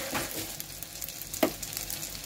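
Flour fritters (boras) fry in hot oil with a quiet, steady sizzle and one brief clatter partway through.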